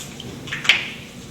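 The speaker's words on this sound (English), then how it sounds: "So we can just take that spray lubricant and spray on the inside of the mold." A short spurt of spray lubricant hisses onto the inside of a soil compaction mold in a laboratory, one brief close burst in a quiet room.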